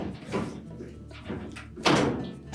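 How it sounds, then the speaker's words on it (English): The door of a Whirlpool clothes dryer is lifted off its hooked hinges, giving a few clunks and a scraping metal thunk near the end, nearby and moderately loud. "So we're just going to grasp that door, lift up on"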